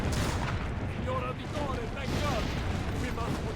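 Cannon fire in a video game from the Brotherhood series, heard as repeated booming blasts and rumbling under a busy battle mix, with voices speaking over it.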